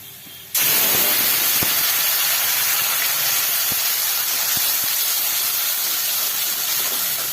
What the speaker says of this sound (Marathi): छान असं आपण भाजायचं आहे मसाला तेलामध्ये